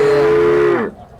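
A single drawn-out cow moo rings out loud and close at an HF cattle market, holding steady for most of a second before breaking off and fading into quiet.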